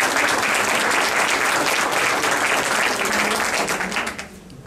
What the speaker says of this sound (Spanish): Aplausos para Huánuco.